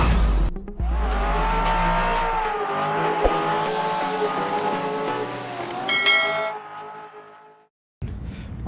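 A 2001 Toyota MR2 Spyder driving and turning, its engine droning steadily up and down in pitch with a brief tire squeal, heard close for several seconds before a short silence and renewed noise.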